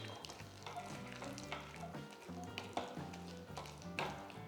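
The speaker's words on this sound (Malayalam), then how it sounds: "ഈ ശർക്കരയിൽ കിടന്ന് ഈ പഴം നന്നായിട്ട് കുറച്ച് നേരം ഒന്ന് കുക്ക് ചെയ്യണം" Banana pieces cooking in melted jaggery, stirred in a pan with a soft continuous sizzle and light scraping taps of a spoon, faint and close, with no talking.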